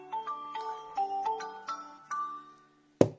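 A Xiaomi outdoor mini Bluetooth speaker plays its power-on tone, a bright chiming melody of about eight quick notes stepping along, then a brief silence and one sharp click.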